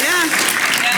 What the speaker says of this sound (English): I think this deserves a clap,